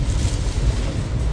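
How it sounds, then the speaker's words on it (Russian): Strong squall wind in Anapa, Russia, roars and buffets the microphone in a steady, dense rush with low gusty rumbling throughout. "какой шквал пришел, прям сильный ветер."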